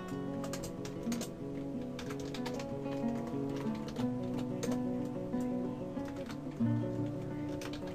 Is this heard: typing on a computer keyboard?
yes